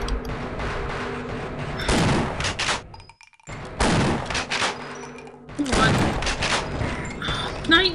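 Rapid, heavy bursts of gunfire in the video game Half-Life come in several loud volleys broken by brief silent gaps, with a voice talking between the shots.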